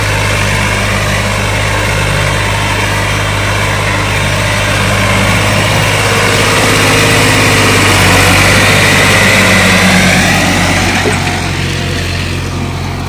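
An old tractor engine drones steadily and loudly while pulling a 16-disc harrow through a wet field, its low, even hum swelling slightly midway and holding without a break.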